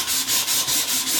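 Sandpaper rubs by hand over a wooden knife handle scale in steady back-and-forth strokes, a close, loud rasping swish repeating about five times.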